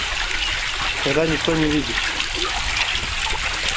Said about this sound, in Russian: Здесь такой фонтан.